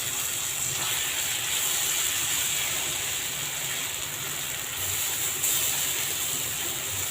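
Plantain slices frying in a pan with ground masala for a plantain fry give a steady, close hiss and sizzle that runs unbroken and fairly loud throughout, with no talking.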